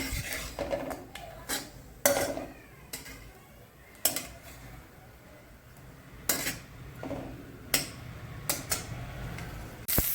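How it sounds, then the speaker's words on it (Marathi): Grated coconut being dry-roasted in a pan for an egg curry, with a scattering of light scrapes and metallic clinks as a spatula stirs it, quiet between the taps. "आपण आज अंड्याची भाजी करणार आहोत त्यासाठी आपण खोबरं भाजून घेऊ"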